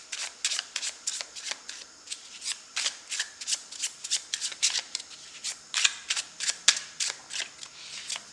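A deck of tarot cards is shuffled by hand in quick, even riffles, a crisp flutter repeating roughly every half second, close and clear against near silence with no talk.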